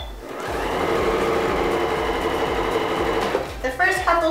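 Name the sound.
sewing machine sewing quilt strips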